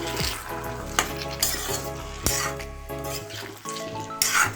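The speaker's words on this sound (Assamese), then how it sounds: "মই মছলাখিনিৰ লগত এতিয়া ৰঙালাওখিনি মিলাই দিছোঁ" Pumpkin pieces are stirred with spices and turmeric in a frying pan, giving a soft sizzle under repeated spatula knocks and scrapes against the pan, close and unhurried, with no speech.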